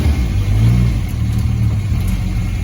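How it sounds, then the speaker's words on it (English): A 1960 MGA speedster's engine revs close up, a loud, steady mid-pitched roar with a low rumbling drone throughout and no voices. "It's revving good."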